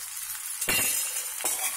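Round beans (alasandalu) dropped into a hot pan for curry, giving two bursts of rattling, sizzling clatter against a steady hiss.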